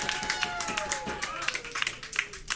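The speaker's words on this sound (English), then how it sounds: "Let's get clapping, let's get stomping" An audience in a pub claps at a live show. The sharp, irregular claps and taps come from nearby and sound loose rather than in unison, with a person talking over them.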